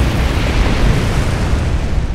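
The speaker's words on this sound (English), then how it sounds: "why did an explosion go off?" A loud, sustained explosion rumble from the Star Trek Online game's Foundry editor, a dense roaring blast that holds steady and then fades slightly over about two seconds, with no voices.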